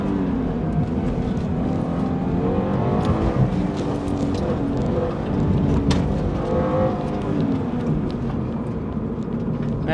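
A 2022 Subaru BRZ Sport Tech with a manual gearbox, in track mode on a handling course, engine droning loudly and continuously with rising and falling revs as it is driven hard through bends.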